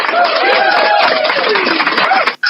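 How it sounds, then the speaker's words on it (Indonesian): Applause from a congregation at a church gathering: a dense, steady wash of many hands clapping with voices over it, breaking off abruptly near the end. "Tepuk tangan buat Tuhan."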